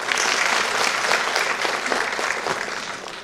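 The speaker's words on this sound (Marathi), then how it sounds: "तुमच्या सर्वांचं मनापासून टाळ्या वाजवून स्वागत करा" Audience clapping to welcome members of the 'Aapla Awaaz Aapli Sakhi' group at a 'Yada Kadachit' play event, a loud, dense round of applause that continues steadily for about three seconds.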